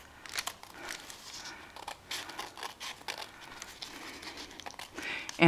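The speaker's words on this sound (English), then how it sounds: "I cut just a tiny little slit there to allow my scissors in" Scissors trimming a paper business reply envelope, soft irregular snips and papery crinkling up close, with faint handling noise and a louder rustle at the end.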